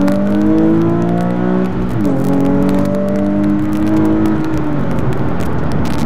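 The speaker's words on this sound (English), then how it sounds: "You're always asking me to rev it up more and floor it more, so there you go." A Nissan 370Z engine revs and accelerates loudly and close, its pitch climbing steadily through the gears with a shift break partway through, the drone continuing to rise afterward.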